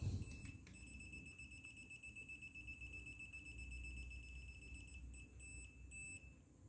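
A ZOYI AC voltage detector held near a live cable gives off a high, steady electronic beep that runs continuously at close range, briefly dropping out and resuming near the end, with no voices.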